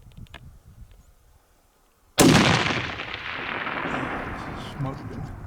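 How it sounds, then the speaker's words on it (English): A single loud rifle shot cracks out in open high-country terrain during an Idaho mule deer hunt, following a quiet stretch with faint whispering, then rolls away in a long echoing tail. "I'm gonna shoot him."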